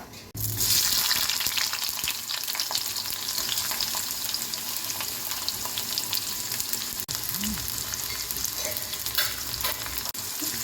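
Tempering seeds fry in hot oil for a moong dal curry, giving a loud, steady, crackling sizzle with scattered pops that runs unbroken throughout with no voices.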